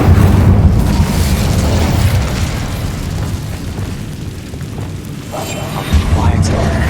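In Hogwarts Legacy, the Incendio fire spell erupts in a loud rushing boom that fades to a lower rumble, then flares again near the end, with a voice speaking over it.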